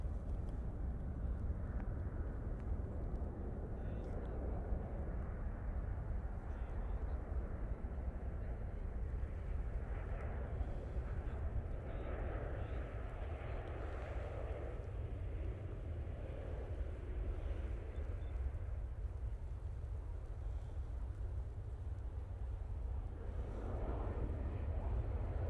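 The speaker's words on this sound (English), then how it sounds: "on final, we have this Ryanair. No idea where it's from. From Lanzarote. Using the 737-800." Ryanair Boeing 737-800 airliner from Lanzarote on final approach at Manchester Airport, a distant low engine rumble mixed with wind noise, rising and falling gently over the whole stretch.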